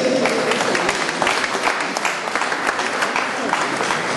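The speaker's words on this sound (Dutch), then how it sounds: "Uw applaus, dames en heren, voor Lene Vrijs." Audience applause for a cyclist being introduced at a women's cycling team presentation, a crowd clapping steadily with individual claps standing out, as voices murmur underneath.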